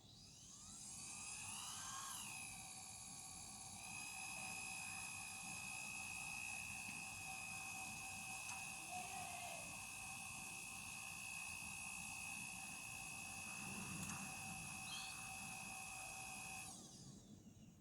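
A car alternator spins up on a bench test rig, giving a steady whirring, high-pitched mechanical whine with strong tonal hum. It runs evenly for most of the stretch, then stops at the end.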